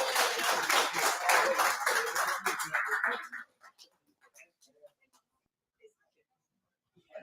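Audience clapping after a presentation at a rooftop brunch and pool party, a loud burst of hands that cuts off after about three seconds, leaving scattered faint sounds and near quiet.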